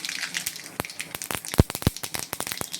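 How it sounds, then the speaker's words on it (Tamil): Mustard seeds spluttering in hot coconut oil in a kadai for South Indian home cooking, a quick irregular run of sharp pops and crackles, two louder bursts among them, close and with no talk. "கடாயில் எண்ணெய் ஊற்றி தேங்காய் எண்ணெய் ஊற்றிருக்கேன். கொஞ்சம் கடுகு போட்டுக்கிறேன்."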